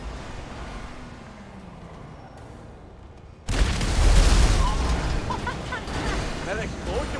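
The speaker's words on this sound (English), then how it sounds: "That explosion was loud" A loud boom of an explosion in a VR training simulation cuts in suddenly midway, followed by sustained rumbling noise and scattered voices talking over it.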